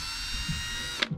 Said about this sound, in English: So we're gonna drill pilot holes on each side.